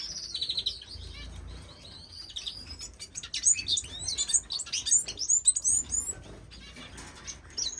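A pet bird sings to a female who has just laid eggs, holding a piece of grass in his beak, in an indoor bird room; bright warbling chirps and tweets come in bursts, growing busier and louder toward the end, with faint rustling beneath.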